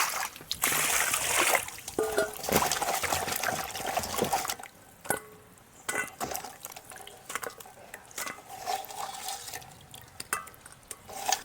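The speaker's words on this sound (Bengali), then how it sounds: "এবার জল দিয়ে ভালো করে ধুয়ে নেব।" Water splashing and trickling as a roasted crab is washed by hand, loud splattering for the first few seconds, then quieter drips, sloshes and scattered knocks from the bowl, with no talking.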